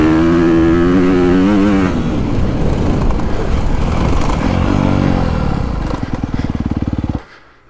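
A 2022 Honda CRF250 dirt bike on a woods loop revs loud and near, the engine note climbing and dropping through the gears before it settles into a sputtering idle and cuts off.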